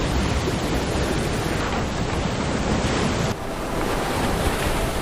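Ocean waves wash steadily onto a beach, a constant loud roar of surf with wind buffeting the microphone throughout.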